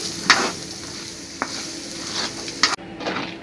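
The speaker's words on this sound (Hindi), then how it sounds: "स्लो आंच पे इसको ऐसे ही पकाते रहेंगे हम।" Sabudana cooking in ghee over a slow flame while being stirred, giving a soft steady sizzle with a few sharp scrapes and clinks of the spoon against the pan, close by and with no talking.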